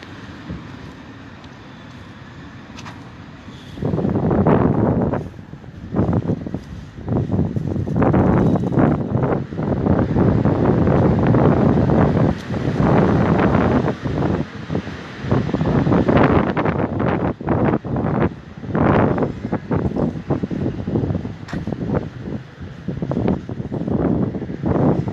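Strong wind blows through a pedestrian street in Paris under lockdown, roaring against the microphone in loud, uneven gusts that rise and fall over a low steady rumble.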